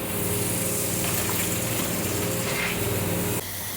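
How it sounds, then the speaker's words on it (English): A CNC mill's 16mm through-coolant drill pre-drills a center hole, whirring steadily with a hissing spray of coolant, loud and continuous, cutting off abruptly near the end. "a 16mm Mitsubishi through coolant drill that's just pre-drilling out the center hole on this part"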